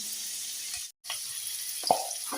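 Onion-garlic paste with turmeric frying in oil for a mixed vegetable gravy, a steady hissing sizzle broken by a brief cut of silence, then resuming with a small clink.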